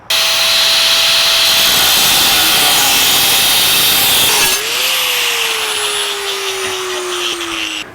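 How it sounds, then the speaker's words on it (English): Power saw cutting through the steel front cross member of a 1949 Chevrolet gasser, a loud sustained whining grind with a steady tone that dips and slowly falls as the blade loads in the metal, close and continuous. "Here we go on the first cut to remove the cross member that supports the core"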